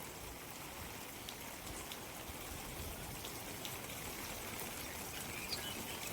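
Steady, dense unseasonal rain pours down continuously over paddy fields, a constant hiss of drops hitting surfaces with no voices over it.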